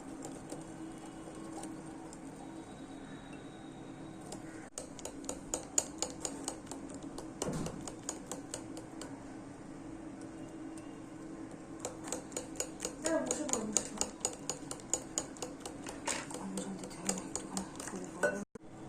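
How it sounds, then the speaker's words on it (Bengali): Cake batter ingredients being whisked in a bowl, with a rapid, steady run of light clicking taps against the bowl that quickens and grows denser in the second half, close by, with a faint hum underneath. "এবার এই উপকরণগুলো সব একসাথে ভালো করে মিক্সড করে নেব। খুব ভালো করে ফেটাতে হবে।"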